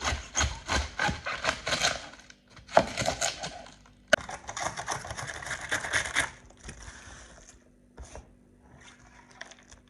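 Cabbage is shredded with a manual kitchen shredder in bursts of coarse, rasping strokes, several runs of rhythmic scraping separated by short pauses, close and loud with no talk.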